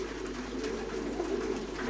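Racing pigeons in a breeding and racing stud loft give soft, low coos that blend into a steady background hum.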